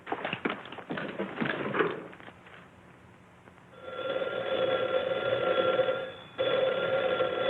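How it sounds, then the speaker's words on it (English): An old telephone rings in a 1943 western film, its steady bell tone sounding for a long stretch and then starting again after a short break. A few seconds of clattering, hoof-like knocking come before the ringing. "It rang, and I took off the receiver unthinkingly"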